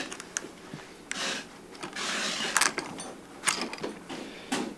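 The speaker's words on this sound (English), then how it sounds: "now we're going to roll this gear on." A gear is rolled onto the rear axle of a Razor Crazy Cart during a motor upgrade, giving scattered mechanical clicks and grinding metal scrapes in short bursts, close up.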